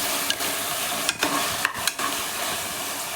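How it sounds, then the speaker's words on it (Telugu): Sliced onion and chunks of potato frying in a pan, giving a steady close sizzle with a few brief scraping stirs. "ఒక పెద్ద ఉల్లిపాయని బారుగా సన్నగా కట్ చేసుకొని అవి కూడా వేసుకొని ఫ్రై అవనిద్దాము"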